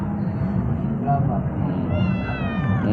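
A domestic cat meows a few times close by, its calls rising over a low steady background hum, with a person's voice talking to it in between.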